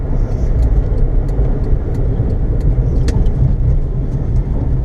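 A loud, steady race car engine on a track drones continuously, with a dense low rumble that barely changes throughout.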